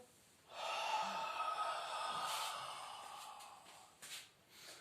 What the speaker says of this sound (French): Inspire fort, expire.